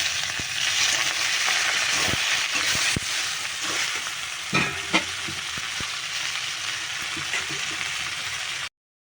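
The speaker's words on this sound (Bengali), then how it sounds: "আর রসুনটাকে ভাজা ভাজা করে নিয়েছি এবার দিয়ে দেবো আমি শাকটা" Leafy greens and fried garlic sizzling in a pan, a steady close crackle with repeated clacks and scrapes of stirring throughout, then a sudden cut to silence at the end.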